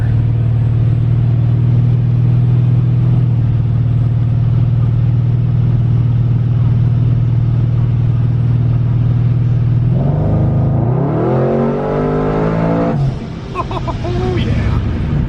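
An LS V8-swapped Mazda with a six-speed transmission drones steadily at close range while accelerating, then the engine note climbs and falls sharply through a quick downshift and a final rev flare.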